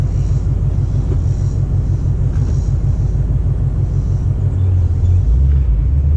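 Ford Mustang Bullitt GT V8 idling in a low, steady rumble, swelling slightly as the manual clutch is eased out in first gear, loud and close with no talk.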